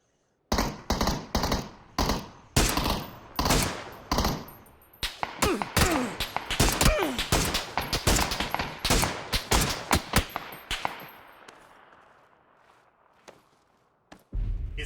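Gunfire in the battle royale game PUBG: rapid bursts of sharp shots, some single cracks and some quick volleys, loud and close, thinning out toward the end with one last shot.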